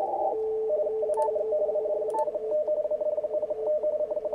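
Morse code from a radio comes through a narrow 300 Hz filter during contest conditions, a clear steady tone keyed in rapid dots and dashes over a faint noisy background, with a few brief clicks.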